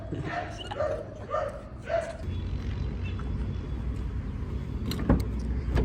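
A frightened small dog barks in several quick yips and bow-wows close by, then falls quiet as a passing car and steady outdoor noise take over.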